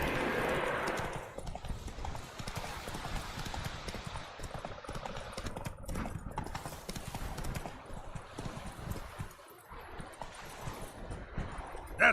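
Roach, Geralt's horse in The Witcher 3: Wild Hunt, trotting with a steady clip-clop of hooves over a windy outdoor ambience, the rhythmic steps continuing throughout with a faint snort or whinny near the start.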